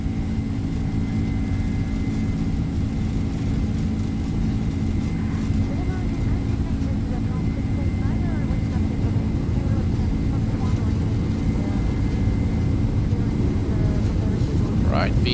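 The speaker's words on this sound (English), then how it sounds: "Check out those General Electric engine sounds from the Mango studio." General Electric jet engines of a Boeing 767-300ER spooling up for takeoff in X-Plane 12 with the Mango Studio sound pack, a loud sustained roar and whine that runs steadily throughout while a voice talks over it.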